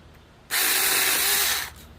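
Tiny chainsaw cutting through a small tree limb, a loud steady buzzing whine that starts abruptly, holds for about a second, then stops.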